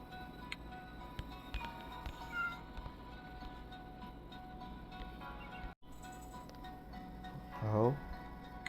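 A game-cat meow from the mobile game Cats and the Secret Forest rises and falls once near the end, over a steady electronic game soundtrack with faint ticking effects.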